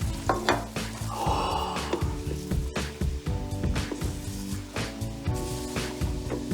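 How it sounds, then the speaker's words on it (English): Popcorn is stirred rapidly through a hot sugar color mixture, producing a busy sizzling, crackling rustle with scraping strokes and faint tonal hums underneath. "And we stir quickly to spread the color around."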